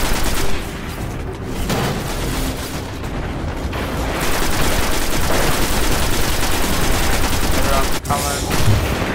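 Gunfire in Destiny crackles in loud, sustained bursts of rapid, machine-gun-like shots and heavier blasts, with speech mixed into the chaotic battle noise.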